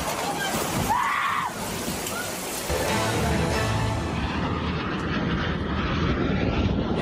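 A display airplane flies over the Mediterranean coast of France during a Normandy landing anniversary show, its engine giving a loud, steady roaring drone with a washing, rushing quality.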